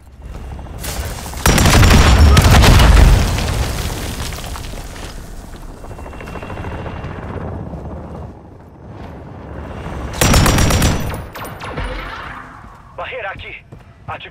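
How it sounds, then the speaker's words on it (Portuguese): Air strike explosions in Call of Duty zombies: heavy booming blasts roll in early, then another loud burst later, set against ongoing gunfire and game voices speaking over the action. "Ataque aéreo da Terminus mirando no neutralizador."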